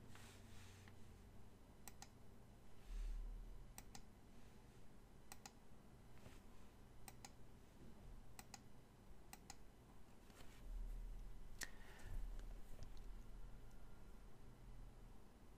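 Office computer keyboard typing and mouse clicks at a desk, soft and fairly close, scattered taps and a few clustered clicks over a steady low room hum, with no talking.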